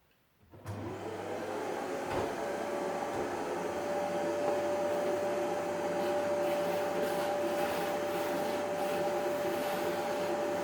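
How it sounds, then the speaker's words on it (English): A vacuum cleaner switches on and runs steadily over a floor with a loud, constant whine and motor hum, close by, with no talking. "let me vacuum the hole here, the floor here"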